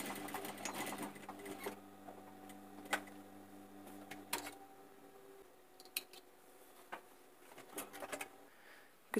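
A sewing machine stitches fabric for a living-room upholstery makeover, running in a steady close-up whir for about four seconds before stopping, followed by scattered clicks and handling taps.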